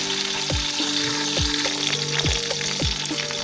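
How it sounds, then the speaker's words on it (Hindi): Chopped onions and small garlic cloves fry in a pan for matar pulao with a loud, continuous close sizzle. Several dull knocks from the spoon or pan sound at regular intervals, and no voices are heard. "इसमें सबसे पहले हल्के फ्राई हो जाए ना ये प्याज"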